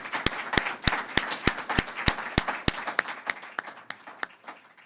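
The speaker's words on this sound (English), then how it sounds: "So if we could give the Governor and these troopers a round of applause" A crowd applauds steadily for a state governor and troopers at a press event, with one close, loud clapper beating an even rhythm over the softer clapping of many others.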